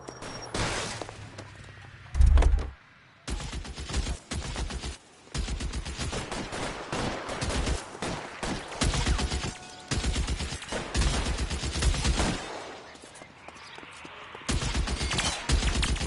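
A shootout in LA Noire fills the scene with sustained gunfire: dense bursts and rapid volleys of shots repeat for most of the stretch, with brief pauses between exchanges.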